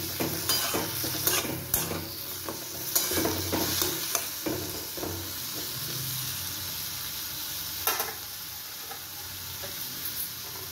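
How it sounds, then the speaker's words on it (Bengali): Chopped ginger, green chilli, cashews and almonds fry and get stirred in a pan for a vegetarian matar paneer, with a steady sizzle broken by repeated scraping and stirring clatters, close and continuous with no talk. "আদা কুচিগুলো দিয়ে দিলাম। আর কাজু আমন্ডগুলো দিয়ে দিচ্ছি। সবগুলো আমি ভালো করে একটু ভেজে নেব"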